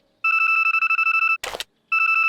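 A cartoon mobile phone rings loudly in a rapid electronic trill, two bursts split by a brief noisy thump, alone with no voices.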